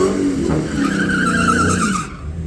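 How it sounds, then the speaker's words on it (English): A Dodge Challenger Hellcat Redeye does a burnout, its tires spinning and squealing in a loud, steady screech over a roaring engine, fading out near the end with no voices. "Check my burnout for the Camaro race."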